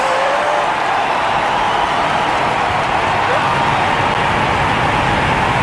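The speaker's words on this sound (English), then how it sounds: "Lift off. NG2 carrying NASA's ESCAPADE mission to Mars." Blue Origin New Glenn rocket, seven engines firing at liftoff on the NG2 launch carrying NASA's ESCAPADE Mars mission: a steady, loud, broadband rumbling roar with no breaks.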